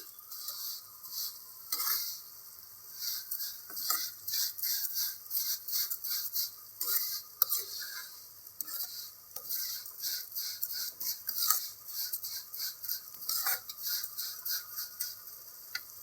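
Vermicelli is stirred in a pan over a low flame, with soft repeated scraping and light ticking strokes of a spoon against the pan in a steady rhythm, fairly quiet and close.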